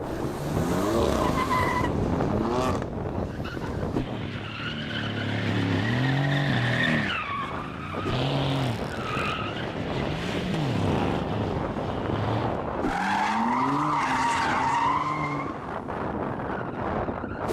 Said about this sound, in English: The other cars, they've got to go and do some donuts